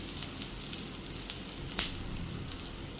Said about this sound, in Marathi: इथे मी पॅनमध्ये तेल गरम करून घेतलेलं आहे आपल्याला ह्या शॅलो फ्राय करायच्या आहेत